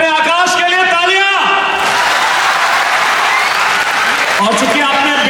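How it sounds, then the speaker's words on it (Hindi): An audience at an annual felicitation event in Patna breaks into loud, sustained applause, with a voice speaking over the start and again near the end. "तो पहले अपने आकाश के लिए तालियां।"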